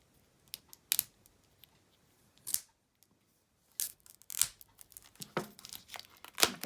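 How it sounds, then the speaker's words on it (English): Scissors snipping and peeling shrink wrap off a card deck, with close, sharp crinkling bursts and snips separated by short quiet gaps, growing busier toward the end. "And let's see if I can snip without ruining."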